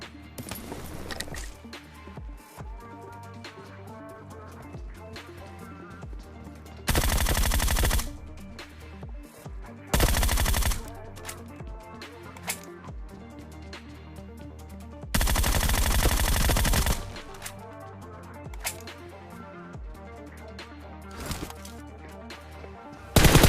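Groza assault rifle fire in PUBG Mobile, heard as three loud automatic bursts of one to two seconds each, spaced several seconds apart over a busy game background.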